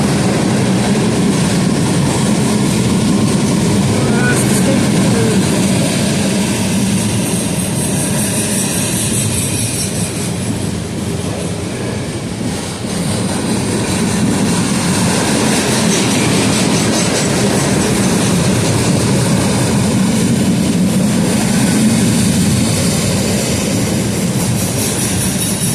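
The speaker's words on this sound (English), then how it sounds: "Oh, trash train." A trash train rolling past on railroad tracks, a steady, loud rumble of wagons with clattering wheels and faint squeals, sustained throughout without talk.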